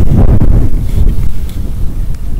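Strong wind roars and buffets the microphone in heavy, rumbling gusts for a couple of seconds, loud and close, with no voices.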